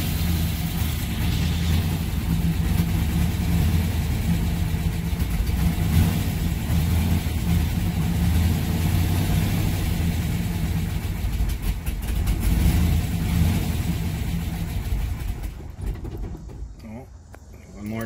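Chevrolet Nova engine running after being started, a low rumbling idle close by, steady with slight fluctuations, fading toward the end, with a voice speaking over it at times.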